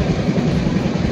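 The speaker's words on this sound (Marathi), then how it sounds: "रेल्वे चालूच आहे अजून पण." A passenger train running on rails in rainy weather gives a continuous, loud low rumble with dense rattling texture throughout, heard up close.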